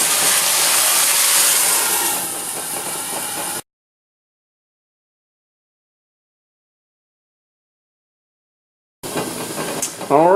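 A pan of flounder with a splash of cooking beer gives a loud, close steam hiss for about three and a half seconds, then silence, and the hissing returns briefly at the end.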